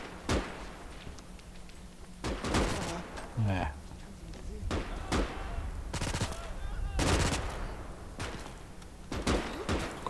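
Several loud rifle shots crack out at irregular intervals during a Gates of Hell battle, one a sniper rifle firing, mixed with other gunfire and a brief voice amid steady battlefield noise.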